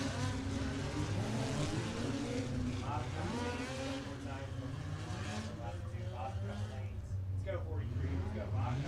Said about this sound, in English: just letting the cars go out and buzz the corners a little bit, kind of test out